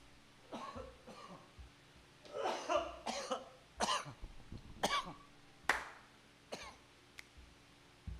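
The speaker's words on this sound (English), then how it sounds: "I'm holding back a cough." Repeated sharp coughs, about eight of them in irregular bursts, close but quiet against a faint background hum.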